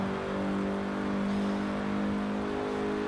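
Ford Focus RS 2002 with a 215 bhp engine driving in Forza Horizon 4, a steady, loud droning engine note held at constant revs with no one talking.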